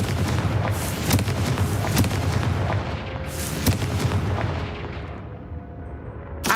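Confringo blasting spells going off in Hogwarts Legacy, a rapid series of sharp loud impacts and booms at irregular intervals over a dense rumbling bed, ending with one final crack, no voice.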